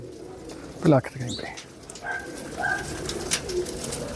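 Pigeons in a loft cooing and calling in short bursts, fairly close, with people talking nearby and a dog-like yelp among the calls.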